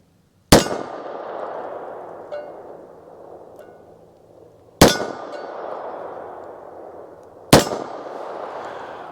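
A Walther PPK pistol firing Blazer 95 grain FMJ rounds at a steel target ten yards away: three sharp, loud shots spaced several seconds apart, each followed by a ringing clang and echoing decay, with no talking.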